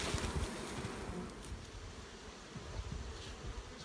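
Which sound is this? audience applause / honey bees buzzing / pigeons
honey bees buzzing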